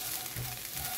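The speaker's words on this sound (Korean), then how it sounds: "기름을 둘러서 이렇게 볶고 있습니다." Anchovies stir-fry in olive oil, giving a brief, faint, soft sizzle with a light stir for about a second.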